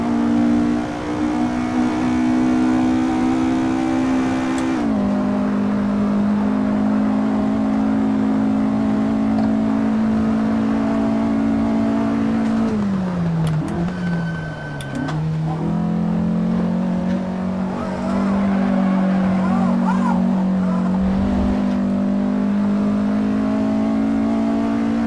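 A 1957 Porsche 718 RS 60 Spyder race car in the Assetto Corsa racing game, its engine droning and revving loudly and steadily, with pitch rising through the gears and a brief dip around a shift midway, no talk.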